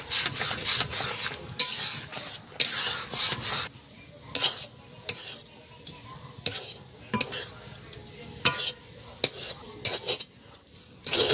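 Semolina dough is stirred in a pan with repeated scraping and clinking of a metal spoon against the pan in irregular bursts, over a faint sizzle.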